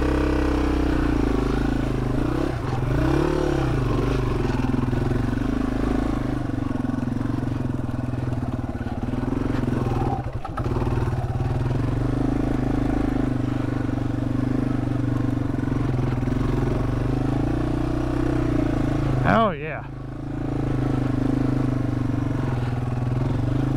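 Yamaha TW200 motorcycle fitted with a Bradley Performance fat tire kit, ridden on damp ground, with a steady mid-pitched engine drone running throughout and a brief clatter near the end.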